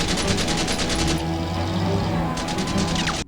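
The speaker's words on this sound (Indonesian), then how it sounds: "adu tembak terjadi di antara kedua kubu" Rapid bursts of gunfire crackle loudly and continuously, with dense overlapping shots and a brief lull before another volley.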